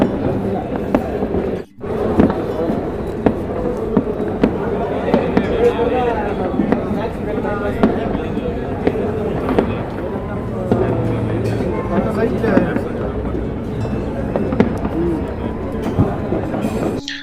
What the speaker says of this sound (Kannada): ಎಲ್ಲರೂ ಪಟಾಕಿ ಹೊಡೆಯೋದನ್ನು ನಾವು ಆಫೀಸಿಂದ ನೋಡೋದಾಯ್ತು